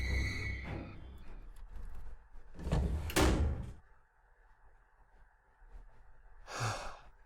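A door opens in the horror video game Corrosion: Cold Winter Waiting, a creaking, scraping burst near the middle followed by a thud, set among quiet ambient tones and a later breathy whoosh.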